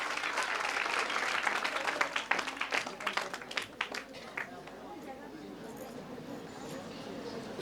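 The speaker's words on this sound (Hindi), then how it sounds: "एक बार जोरदार तालियां हो जाए इन बच्चों के लिए।" A school event audience in Bhopal bursts into loud clapping for the children, dense at first, then thinning into scattered claps that fade into crowd chatter and murmuring.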